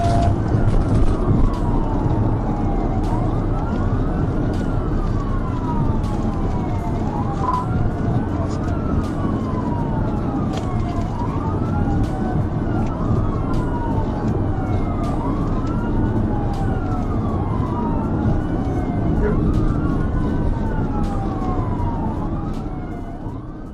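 A wailing police siren rises and falls repeatedly over steady road and engine noise during a high-speed highway chase, loud and continuous, with a faint voice underneath.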